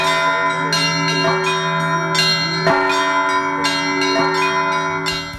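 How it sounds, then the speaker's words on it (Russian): Newly consecrated church bells at a new Orthodox church in Sarov ring loud and close, overlapping strikes every second or so over a sustained, shimmering hum of tones. "смогли ощутить всю полноту и насыщенность звучания колокольного звона"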